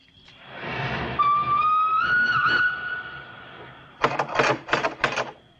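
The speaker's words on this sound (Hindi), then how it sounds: "रेल ने सीटी देना शुरू कर दिया" A train whistle blows a long rising tone over rail noise, followed by a series of short rhythmic clattering bursts, moderately loud and without voices.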